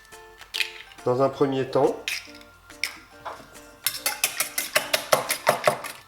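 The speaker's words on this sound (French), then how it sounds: "Maintenant je vais casser mes œufs que je vais mélanger" Eggs cracked into a bowl and whisked, heard as a few taps and knocks and then a quick, rhythmic clinking of a utensil against the bowl, with someone talking over the start.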